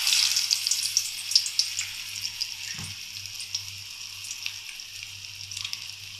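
Urad dal vada frying in hot oil gives a steady, bright sizzle with crackling pops throughout, one brief clunk near the middle, and no talking.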